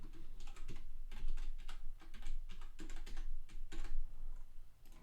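Rapid, uneven bursts of typing on a computer keyboard sound close and clear, with short pauses between flurries of clicking keys.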